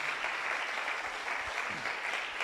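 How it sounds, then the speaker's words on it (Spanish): A church congregation applauds during a sermon, a continuous wash of clapping heard at a moderate distance and fairly soft, with no talking over it. "¿Cuántos le dan un aplauso al Señor?"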